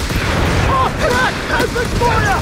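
Gunfire in Company of Heroes 3, a steady dense battle din with booming shots and crackle throughout, under loud shouted soldier voices.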